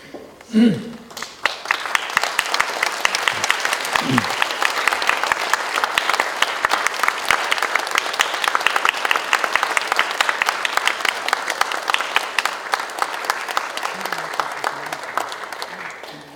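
Sustained applause from a church congregation welcoming a guest speaker, dense and steady for about fifteen seconds, with a couple of brief low voice sounds near the start.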